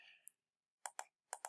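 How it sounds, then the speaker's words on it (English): Typing a file name on a computer keyboard, a few crisp close clicks of individual keys in a short uneven burst after a brief pause, faint and isolated. "You just want to type steve.png."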